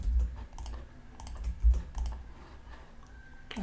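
Quick keystrokes on a computer keyboard while a password is entered during WordPress website setup, a short run of soft, uneven clicks over a low background hum.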